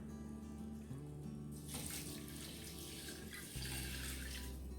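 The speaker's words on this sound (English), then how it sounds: "And then I'm going to add 2 cups of water." Two cups of water poured into the inner pot of a Power Pressure Cooker XL for a one-pot rice meal: a steady, close splashing rush that starts partway in and runs to the end over a low background hum.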